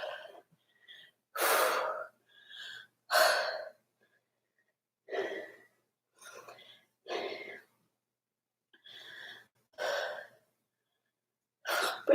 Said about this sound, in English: Breathing pretty heavy on my mouth today.